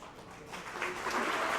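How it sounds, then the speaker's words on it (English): Awards-event audience applauding nominees standing to be recognized, clapping swelling quickly from a soft start into a fuller, louder wash. "with a raucous round of applause"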